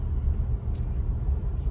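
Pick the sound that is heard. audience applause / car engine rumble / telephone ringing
car engine rumble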